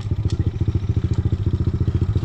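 A mini motorcycle engine idles steadily close by, its rapid regular low putter pulsing evenly throughout, with a faint light clatter on top.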